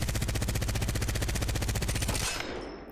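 Rapid automatic gunfire from a gun in the console shooter Apex Legends, a fast, steady stream of loud shots for about two seconds that stops abruptly and leaves a short fading tail.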